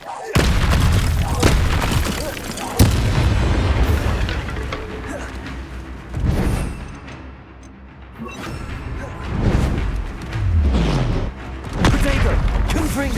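Booming spell blasts from the Confringo fire spell in the Hogwarts Legacy video game, several heavy explosions spaced across the scene amid game music and effects, with character voices speaking in between.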